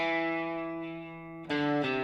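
Distorted electric guitar strummed on an A6-like chord, sustaining with rich ringing harmonics before two sharp new strums hit in quick succession near the end.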